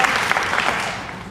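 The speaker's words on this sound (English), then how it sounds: "I want you guys to give yourselves a round of applause" A live audience at a cystic fibrosis benefit show breaks into a brief, dense round of clapping, loud and close, fading slightly toward the end.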